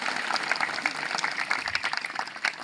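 Audience applause at a pesantren leadership camp, a quick patter of many hands clapping with uneven peaks, moderately loud and continuous.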